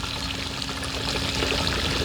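Water pours steadily and continuously for a couple of seconds, a close splashing stream used to dilute a wood antiseptic concentrate at a ratio of one to six, with a faint hum underneath.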